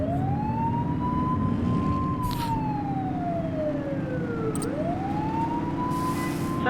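A police car siren wails in The Precinct video game, rising and falling in long sweeping tones over a steady engine hum, with no talking.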